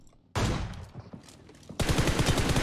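Bursts of automatic gunfire in PUBG Mobile: a sharp volley after a quiet start, scattered shots, then a louder rapid stream of close firing to the end.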